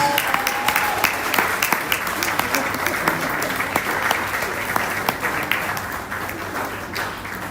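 Steady applause from a crowd at a Nairobi event welcoming an arriving senator, dense and continuous for the whole stretch, with a voice or two faintly audible beneath the clapping.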